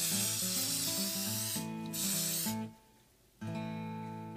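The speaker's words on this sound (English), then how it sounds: "I love to use coconut oil spray to grease the pans." Coconut oil cooking spray is hissed onto muffin pans in several close bursts, with a brief pause before the final spray and rattling, tonal can mechanism sounds underneath.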